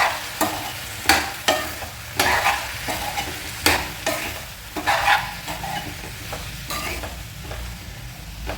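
Tomato pieces with salt are stirred in a frying pan, giving a rhythmic series of sharp scraping strokes roughly every half second over a light sizzle, close and clear, with no voices.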